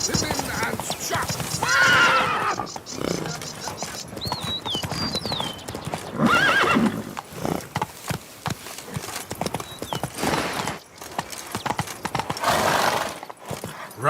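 Roach, a horse in the video game Witcher 3, gallops with rapid hoof clip-clops and lets out whinnies, while people talk over the hoofbeats throughout.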